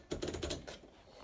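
Paper being loaded into a Panasonic KX-R350 electric typewriter, heard as a quick run of close mechanical clicks and rattles as the sheet is fed in, settling into quiet.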